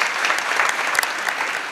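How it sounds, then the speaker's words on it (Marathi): Loud, dense applause fills a kirtan gathering, with many hands clapping in a brief, continuous burst. "एकदा अन्नदात्यासाठी जोरात टाळ्या वाजवा महाराज"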